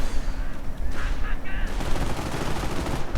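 Artillery fire in a strategy video game, a dense stretch of booming gunfire and explosions that continues without a break, fairly loud throughout.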